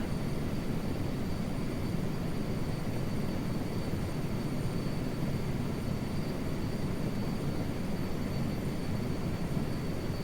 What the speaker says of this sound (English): But yeah, I really do enjoy this helicopter.